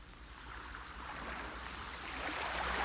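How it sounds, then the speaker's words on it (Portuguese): Sea waves washing on the shore of the Saco Grande cove on Ilha Anchieta, a steady soft rushing surf that swells slightly louder toward the end, with no voices. "o barulho do mar nos indica que falta pouco"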